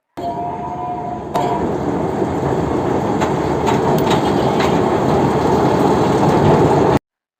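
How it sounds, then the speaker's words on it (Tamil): A miniature train at Veli beach in Kerala runs close by, a steady rumble with faint rail clatter that grows louder after a second and holds evenly with no talk. "அங்கே நிறைய மினியேச்சர் ட்ரெயின் இருக்குது"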